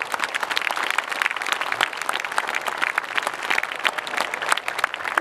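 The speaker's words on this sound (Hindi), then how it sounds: "अगर आप और सुनना चाहें तो जोरदार तालियां बजाएं।" An audience at a Hindi poetry recital breaks into applause, with sharp individual claps standing out from a close, uneven crowd of clapping that carries on throughout.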